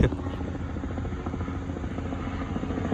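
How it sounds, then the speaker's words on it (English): A news helicopter drones overhead with a steady, pulsing rotor chop, loud and continuous throughout. "Got a helicopter."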